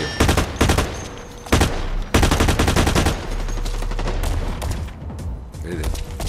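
Rapid bursts of automatic gunfire from a player in the online shooter Blacklight Retribution, loud and close, firing in several long volleys with brief gaps and background game noise throughout.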